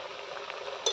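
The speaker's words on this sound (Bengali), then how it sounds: "সুন্দর ভাজা হচ্ছে মাছটা।" Vegetarian mock fish pieces frying gently in hot oil over low heat, a soft continuous sizzle for about a second ending in a small utensil clink.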